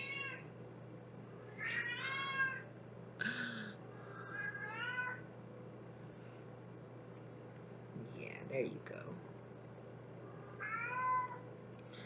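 A cat meows several times, short and close, in a quiet indoor room over a low steady hum, while someone speaks softly between the calls.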